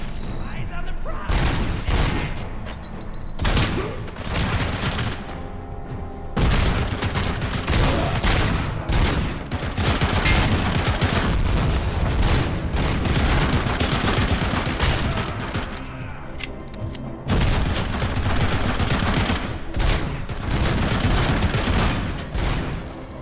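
Sustained machine gun fire and explosive booms from the video game RoboCop: Rogue City, loud and dense bursts nearly continuous for the whole stretch, with brief gaps and a voice talking underneath at times.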